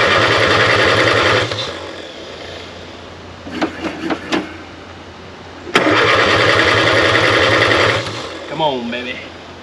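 An old Nash Metropolitan car that has sat for 36 years cranks over with a rhythmic starter churn, pauses for a few clicks, then cranks again; a voice speaks near the end.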